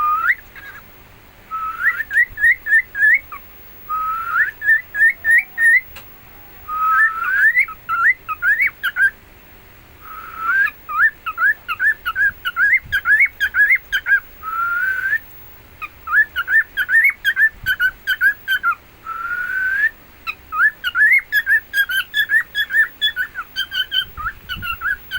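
Captive guest birds call and whistle in repeated bursts of bright chirping, tweeting phrases, close and fairly loud, with short pauses between the runs and no talking.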